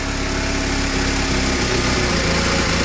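A Honda Rebel CA 125 motorcycle engine revs up close and loud, its small-cylinder buzz rising and falling in quick throttle blips over a constant idle, with no voices.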